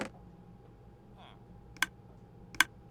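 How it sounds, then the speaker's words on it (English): Two sharp clicks from a redstone mechanism in Minecraft, about a second apart near the end, faint against a quiet low background hum. "I hear clicking"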